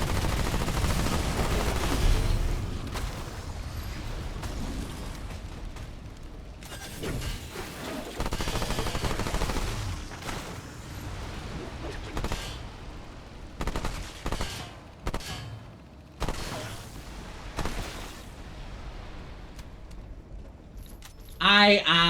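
Rapid weapon fire from a Remnant 2 firefight, dense bursts through the first half that turn choppier and broken later, with a voice talking over the action.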